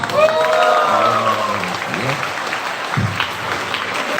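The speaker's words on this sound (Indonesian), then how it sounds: "Tepuk tangan." An audience claps together at a university community-service briefing, a moderate wash of applause under and between a man's speech over the PA, his voice prominent throughout.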